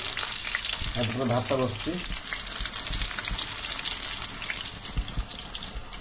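Chilli cabbage frying in a pan for a New Year mutton feast, a steady loud sizzle with stirring scrapes throughout and a few brief voices early on.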